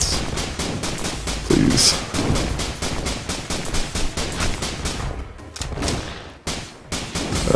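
Rapid bursts of piercing shots fire in Risk of Rain co-op play, a dense, loud, evenly spaced volley of cracks continuing throughout, with a brief spoken word over the gunfire.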